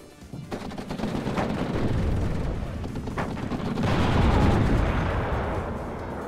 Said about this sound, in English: Firing artillery into the center position.